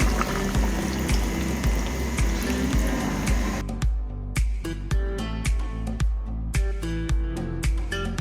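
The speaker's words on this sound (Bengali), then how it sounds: "আমি আরেকটু হাফ কাপ পরিমাণে পানি অ্যাড করে দিচ্ছি" Half a cup of water poured into a simmering bottle gourd and egg curry: a steady liquid rush that gives way to rhythmic splashing and knocks, close by and with no talk.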